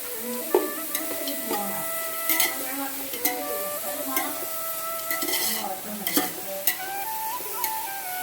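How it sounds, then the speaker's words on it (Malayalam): Sliced onions sautéing in a pan for a beef dish, a steady sizzle broken by repeated scraping and clinking of a spoon stirring against the metal, close up. "ഇവിടെ സവാള വാട്ടി തുടങ്ങി"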